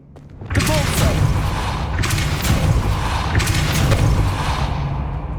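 A Depulso force spell cast in Hogwarts Legacy, a loud whooshing burst followed by sustained rumbling with repeated surging swells, no talking.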